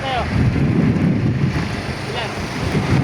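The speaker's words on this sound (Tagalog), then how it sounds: "Lakas ng hangin." Strong wind buffets the microphone on a tuna fishing boat in rough seas, over rushing waves, a constant roar with gusty swells and faint voices beneath.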